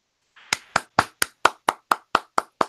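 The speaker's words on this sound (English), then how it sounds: "So everybody give Bobby a huge round of applause and thank you for that." Ten sharp hand claps, close and evenly paced, from a small group applauding Bobby, with a faint rustle just before the first clap and no talk.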